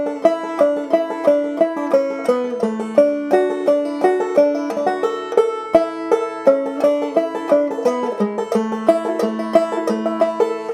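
Clawhammer banjo working a Galax lick in context, a steady bouncing stream of plucked notes with a ringing drone, close and unaccompanied, no voices for about eleven seconds.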